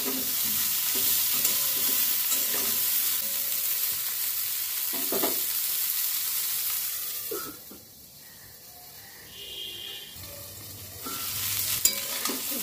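Cauliflower fries in a pan for a vegetarian dish, hissing and sizzling steadily while being stirred, with scraping strokes, a brief quieter lull midway, then the sizzle returns strongly.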